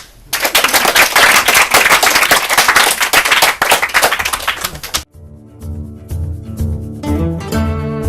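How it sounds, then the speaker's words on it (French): Game show studio audience applause, loud dense clapping for about five seconds that cuts abruptly into a musical jingle with sustained tones. "On applaudit"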